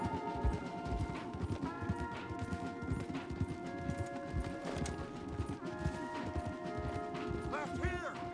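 Horses galloping in the video game Red Dead Redemption 2, a dense continuous drumming of hoofbeats that carries through the whole stretch, with tonal music layered over it and brief louder crashes.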